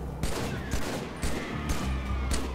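Rapid gunfire from an assault rifle in the Halo 3 video game, several loud bursts spaced across a couple of seconds over a constant game background, with no talk.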